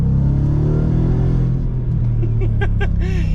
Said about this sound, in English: it's a brilliant sounding V8